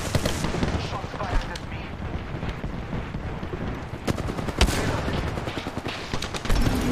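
Rapid video game gunfire crackles in dense bursts over a noisy battle mix, with a few sharper loud shots standing out near the end.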